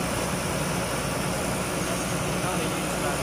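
A Caterpillar 320D-L excavator diesel engine with a common rail fuel system fault runs at a steady, loud drone close by, with a constant hum and no change in pace.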